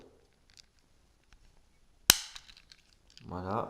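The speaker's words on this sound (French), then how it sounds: "le barillet tourne plutôt bien" Cylinder of a French 1892 service revolver turning, giving one sharp, loud metallic click in an otherwise quiet room, followed shortly by someone saying a word.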